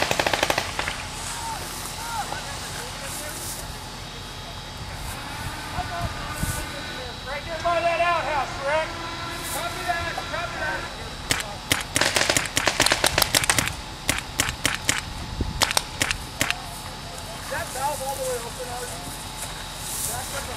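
Rapid bursts of automatic gunfire and scattered single shots in a Vietnam-era online war shooter, loud and close, with dense volleys clustered midway and game ambience underneath, while players talk over the action.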